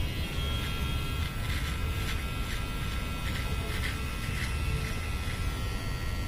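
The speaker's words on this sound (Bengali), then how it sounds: "তো চলো শেভ করা যাক।" Electric shaver running during a shave, a steady close buzzing hum with faint rhythmic strokes over it, no clear speech.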